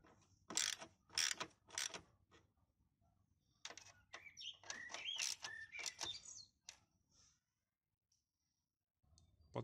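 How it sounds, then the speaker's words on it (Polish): A washer fluid reservoir being screwed onto an Opel Astra G: close, sharp ratcheting clicks and creaks in short bursts of a few rapid strokes, with pauses between and no talking. "Przykręcamy zbiornik."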